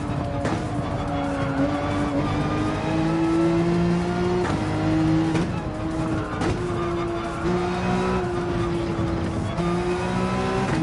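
A race car engine in Gran Turismo 7 roars steadily and loud, its pitch climbing and easing under throttle, with tires squealing and skidding across the whole stretch.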